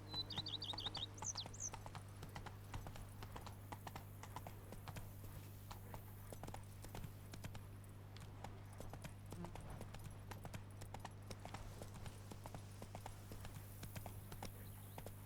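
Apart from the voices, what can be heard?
horse Roach's hooves, from video game The Witcher 3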